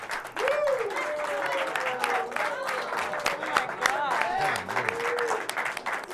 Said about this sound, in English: Let's give Jackie, ladies and gentlemen, a round of applause.